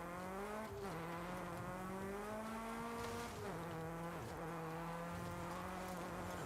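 A car engine in Forza Horizon 5 racing, a high, thin buzzing whine that rises and falls in pitch with gear changes, steady and continuous throughout with no talk.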